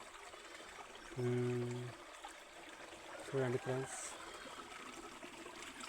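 A small stream trickles steadily in the background, soft and constant, while someone speaks briefly twice over it.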